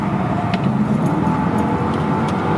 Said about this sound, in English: This is my CLK55.